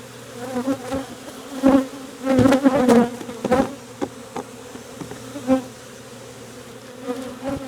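Honey bees from an upset, defensive colony buzz close to the microphone in autumn, overlapping swells of droning wingbeats rising and fading as individual bees pass.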